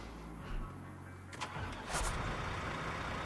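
A tractor engine cranks and catches in the Construction Simulator game, a steady low mechanical rumble with a couple of brief louder bursts, settling into an even idle that runs throughout.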